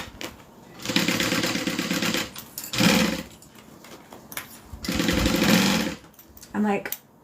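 A sewing machine stitches a bag in bursts, each run a steady rapid whirring chatter lasting a second or two, separated by pauses, with quiet talk between the runs.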